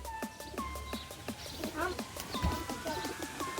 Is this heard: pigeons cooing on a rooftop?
yes